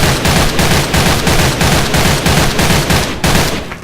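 AK103 rifle in Special Force 2 firing a short burst of rapid, loud, evenly spaced shots, close and dense, with a brief gap before a final shot.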